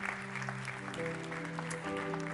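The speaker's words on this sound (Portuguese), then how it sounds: "Aplauda o Senhor mais uma vez aqui nesse lugar" A church congregation applauds during a worship service, with steady continuous clapping blending with sustained music chords underneath.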